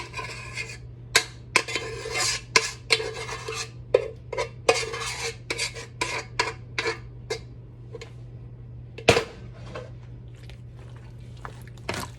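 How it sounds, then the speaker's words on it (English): A spoon stirs homemade mac and cheese in a pot to coat the noodles. It makes repeated close scraping clinks and soft squishy sloshes in an uneven rhythm. "all you do is mix everything together so that it can coat your noodles really good"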